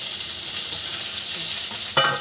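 Potatoes frying in a pan for a Bengali curry give a steady, even sizzle close by, with a brief louder crackle near the end as something is stirred or added. No one speaks.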